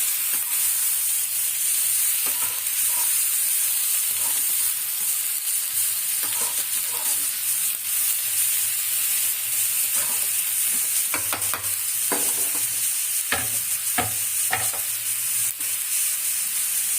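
Masala for fish curry sautéing in a pan, a steady close sizzle throughout with occasional scraping and stirring strokes, growing more frequent toward the end.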